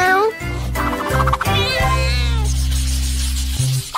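A cartoon-style cat meows in a short, tonal series with other sounds overlapping it, likely a voice imitating the cat, held over a steady low musical drone; the sound is close and fairly loud.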